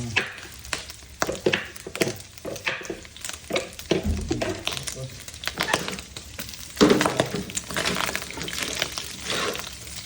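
Banana heart browning in a pan gives a close sizzle and frying crackle under stirring scrapes and clatters, uneven and busy throughout.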